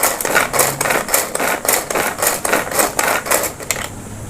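A hand-pulled vegetable chopper is worked with about a dozen quick, rhythmic rattling clatters as its blades spin through the vegetables. It is loud and close, then stops, leaving a quiet hiss.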